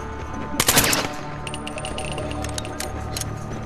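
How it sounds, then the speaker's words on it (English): A machine gun in the video game Killzone 3 fires one short, loud burst of rapid shots, followed by scattered metallic clicks and clinks and a faint background drone. "It's a machine gun."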